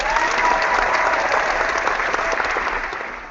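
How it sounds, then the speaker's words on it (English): A room of people at an art hangout gives a round of applause, a dense, sustained wash of clapping that holds steady before tapering off toward the end, with no talk over it. "We'll do a round of applause."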